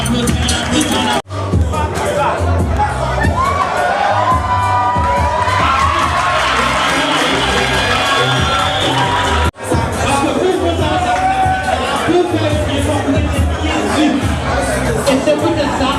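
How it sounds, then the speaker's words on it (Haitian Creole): A crowd at a club football match cheers and shouts loudly and continuously, with a dense roar of many voices, whoops and chatter, broken by two brief dropouts. "On applaudit, on applaudit, on applaudit."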